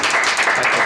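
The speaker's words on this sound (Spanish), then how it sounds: "¡Un aplauso para el doctor!" A brief, loud burst of audience applause greets a doctor on a talk show, many hands clapping in a dense, continuous patter with no voices on top.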